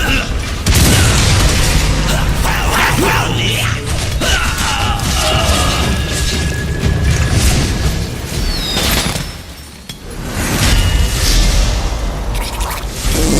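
Bombard spell explosions in the dungeon strategy game War for the Overworld, heavy booming blasts and crashing impacts repeating over roughly thirteen seconds, with a game voice speaking amid the din.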